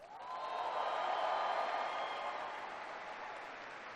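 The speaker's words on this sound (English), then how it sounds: "Give your commander, General John Allen, a big, big round of applause." A large crowd of troops at Bagram Air Base applauds General John Allen: a dense, sustained wash of clapping, somewhat distant, that swells early and then eases slightly toward the end.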